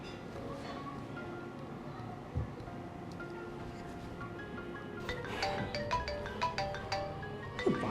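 A phone ringtone chimes in a repeating melodic pattern, growing clearer toward the end over a faint background hiss.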